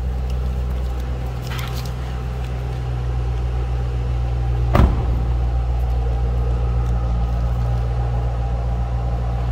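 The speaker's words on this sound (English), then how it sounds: "Nice deep exhaust." A 2008 Ford Mustang Shelby GT engine and exhaust hum at a steady, deep idle, close by and continuous, with a brief sharper burst near the middle.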